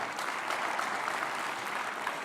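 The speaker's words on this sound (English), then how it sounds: "So I want to applaud our colleague ministers for the great work you're doing." Sustained applause from an audience honoring ministers at a youth closing ceremony, a steady dense wash of clapping that holds evenly throughout at moderate distance.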